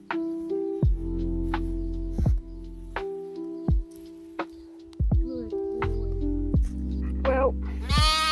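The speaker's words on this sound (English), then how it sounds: "It's a sheep." Sheep on an off-grid homestead bleating repeatedly, several wavering nasal calls at close range over about eight seconds with brief pauses between them.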